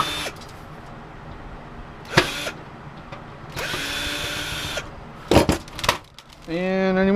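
A power drill backs screws out of a satellite dish receiver being stripped for scrap, with several short whirring bursts separated by pauses and a longer steady run, close and fairly loud.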